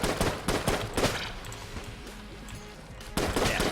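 Rapid bursts of gunfire in the video game Enter the Gungeon, loud repeated shots in clusters with a brief lull before firing resumes, close and dense, with no talking.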